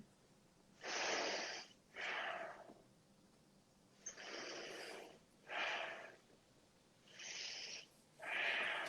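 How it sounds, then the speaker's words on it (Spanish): Loud, breathy human inhales and exhales at rest repeat in a slow, regular rhythm close to the microphone, with quiet pauses between each breath. "Se oye la respiración en reposo"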